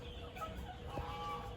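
Faint clucks and distant crowing rise from a pen of Hatch breed gamefowl hens at a game farm, soft and steady, no voices.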